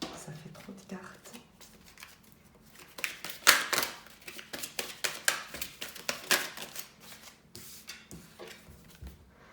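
Tarot cards handled close up, with a quick series of sharp flicks, taps and slides that grows busier midway and then thins out, with soft talking around it.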